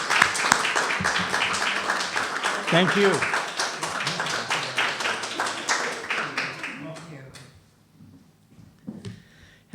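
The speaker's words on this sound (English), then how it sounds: "let's give her a great round of applause" Audience applause welcoming a speaker, a dense crowd clapping for several seconds before fading out, with a brief spoken voice in the middle and a few scattered claps at the end.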